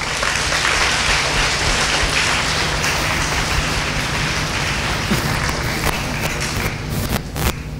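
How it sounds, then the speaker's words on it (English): A school assembly crowd gives a sustained round of applause, dense clapping filling the hall at close range, with a few thumps and taps near the end as it tapers off. "Let's give them a round of applause."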